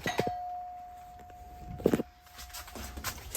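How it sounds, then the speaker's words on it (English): An electronic doorbell chime rings out with a sustained tone, followed by light knocks and footstep-like taps in a quiet room. "we're going to show you the doorbell"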